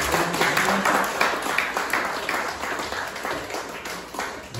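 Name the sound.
applause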